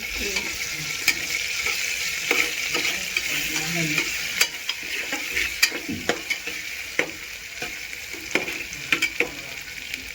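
Green chillies stirred and fried in a pan while salted brinjal is being cooked, with constant loud sizzling and repeated sharp spatula scrapes and taps close by.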